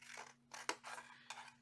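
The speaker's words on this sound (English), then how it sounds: "take our big scissors. I'm going to cut to the right of the score line" Big scissors slice through cardstock along a score line, giving several crisp, close snips with short pauses between them. The cutting is quiet, with one sharper click in the middle.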